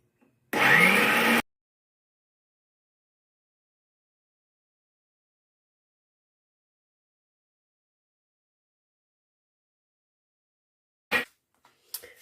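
Electric meat grinder mincing liver, lard with meat and fried onion, a single loud whirring burst of under a second near the start, then long silence and a couple of brief knocks at the end.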